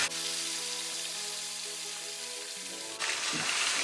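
A cube steak fries in a pan, giving a steady, close hiss and sizzle that swells louder near the end, with no voices.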